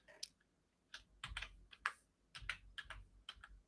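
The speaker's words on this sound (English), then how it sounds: "I hate when I have to type the password and I have to look at the keyboard" Someone types a password on a computer keyboard: several sharp, separate key clicks in uneven clusters, close and quiet, with no voices.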